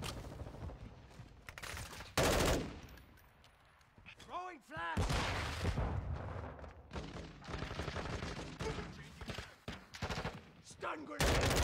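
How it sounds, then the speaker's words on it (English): In the video game Modern Warfare II, a flash grenade is thrown and goes off amid repeated bursts of gunfire and explosions, with a ringing tonal whine, while a voice talks throughout the busy combat noise. "Throwing flash."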